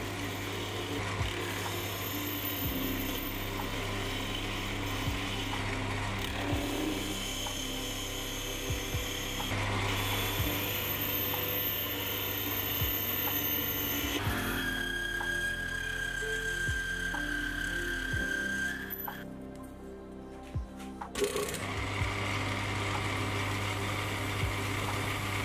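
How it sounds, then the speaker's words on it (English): Boring bar widening a hole to 25mm while making a quick change tool post on a lathe, a steady close machining drone with a hum, scraping cut noise and a brief high squeal partway through. "A boring bar is then used to widen the hole to 25mm wide to a depth of"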